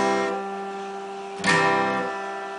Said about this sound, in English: And the sound you hear now is from the last string